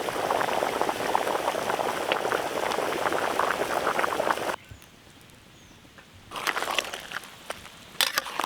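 Chicken leg pieces bubble and sizzle vigorously in water with soy sauce and green chilli sauce, a dense crackling boil that drops away briefly before resuming.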